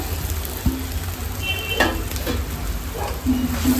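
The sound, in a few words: grated potato added to hot pan, frying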